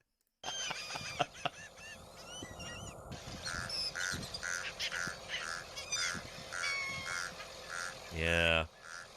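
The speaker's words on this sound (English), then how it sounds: "It sounds like a crow that's congested." American crow (Corvus brachyrhynchos) gives a series of rough, nasal, repeated calls against a background of frogs and other birds, ending in one loud, harsh call close by.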